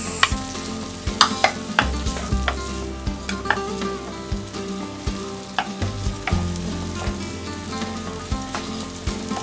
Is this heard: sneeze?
no